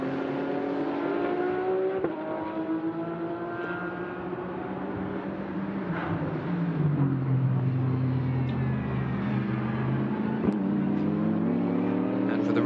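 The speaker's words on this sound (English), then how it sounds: "Markus Winkelhock crosses the line, and that is lap 100 completed." Audi GT race car in the Sepang 12 Hours endurance race at Sepang circuit, engine tone rising and falling steadily as it runs past, with broadcast commentary over the top.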